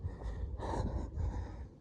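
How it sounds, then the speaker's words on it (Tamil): Heavy breathing from a hiker on a trail in Santa Clara County, a few loud gasping breaths close to the mic with no talking. "நல்லா மூச்சு வாங்குறது"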